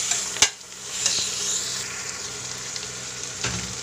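Chicken stirred and fried in a pan with onions, a steady close sizzle with a couple of sharp utensil knocks near the start and end.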